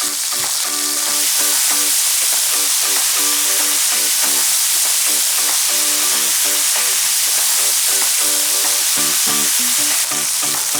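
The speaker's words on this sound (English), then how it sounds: "This is sizzling pretty hard." Chicken thighs fry in a hot pan with a loud, continuous, close sizzle and crackle that stays steady throughout, with no talk.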